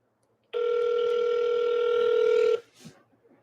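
One long steady telephone tone on an outgoing call, lasting about two seconds before cutting off, followed by a faint soft sound.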